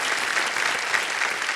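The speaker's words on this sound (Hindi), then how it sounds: "प्रशांत जी, प्रणाम, और तालियां बज जाए इनके लिए।" Studio audience applause fills the set of the quiz show Kaun Banega Crorepati, a dense, even burst of clapping close up, heard alone without talk.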